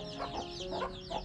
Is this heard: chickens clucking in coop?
yes